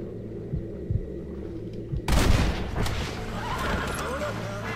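Horse whinnying in the Western video game Red Dead Redemption: a loud burst erupts midway after quieter ambience and dull thumps, trailing into a rising, wavering neigh over game background noise.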